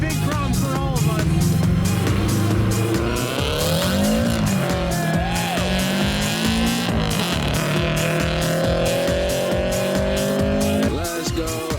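A Honda Fit races along a winding mountain road, its engine revving hard and steadily while tires squeal through the turns. The sound is loud and continuous, with a pulsing rhythm throughout.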